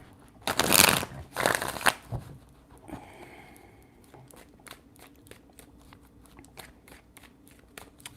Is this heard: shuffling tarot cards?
yes